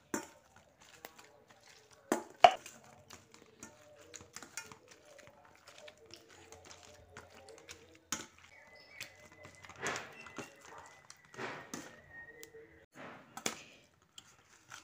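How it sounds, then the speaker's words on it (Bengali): Boiled potato, tomato, cabbage and green chilli being mashed together with a brass tumbler, giving soft, irregular thuds and wet squashes with occasional sharper knocks, fairly quiet and close, with no voices. "এবার এরকম একটা কাঁসার গ্লাসের সাহায্যে আলু, টমেটো, বাঁধাকপি ও কাঁচা লঙ্কা সব একসঙ্গে ম্যাশ করে নিচ্ছি।"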